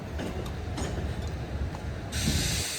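A Mumbai suburban train at a station during flooding rains, a low steady rumble with faint rail clatter, then a sudden bright hiss rising over the last part.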